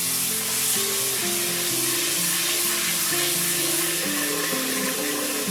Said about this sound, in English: So we're going to give this a good rinse in some water.